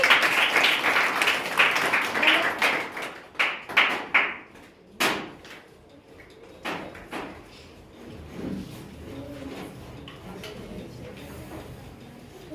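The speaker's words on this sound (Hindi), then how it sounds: "एक बार जोरदार ताली।" Loud applause from a school class for a student who placed second at an exam results event. Dense clapping lasts several seconds, then thins to a few scattered claps before the room goes quiet.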